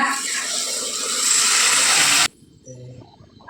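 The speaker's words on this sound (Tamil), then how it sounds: "இப்போ இந்த ஸ்டேஜில் 3 கப்பு தண்ணி சேர்த்துக்கோங்க" Water gushes loudly and steadily into a pot of vegetable kurma for about two seconds, then stops abruptly, leaving quiet kitchen sounds.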